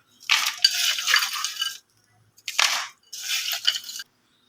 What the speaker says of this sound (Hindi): इसमें बर्फ़ डालेंगे।